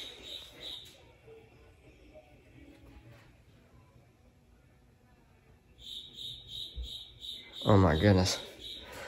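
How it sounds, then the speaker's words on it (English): A cricket loose in a workshop during a Ford 289 engine assembly gives steady high chirping near the start and again toward the end, with a brief exclaiming voice and louder handling noise near the end. "there's a cricket loose in the shop somewhere and it's killing me."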